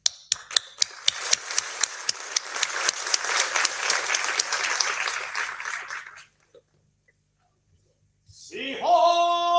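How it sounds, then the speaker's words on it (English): An audience applauds to welcome the Dengakuza lion dance troupe, a dense burst of clapping that starts with a few sharp claps, swells, then stops abruptly into silence before a voice or instrument begins. "Please welcome Dengakuza with big applause."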